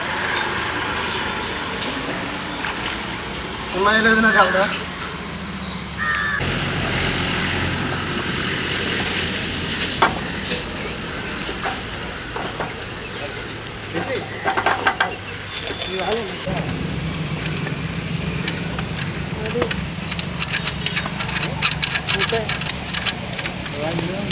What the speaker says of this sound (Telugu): మోటార్ తెచ్చారు.